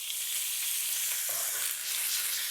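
Kangaroo meat frying in hot peanut oil in a pan, a steady, bright, close sizzle with a slight surge as the meat goes in, no voices.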